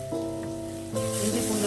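Chopped onions sauté in a pan for chicken curry, giving a steady close sizzle with a soft stirring scrape, and the sizzle grows brighter partway through.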